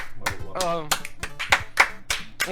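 Two people clap their hands a few times, sparse and close by, with irregular sharp slaps mixed in among their lively overlapping talk and laughter.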